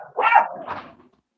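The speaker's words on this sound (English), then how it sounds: "Attack dogs." Small dogs give two quick yapping barks, fairly close and clear, the second softer than the first, with nothing else around them.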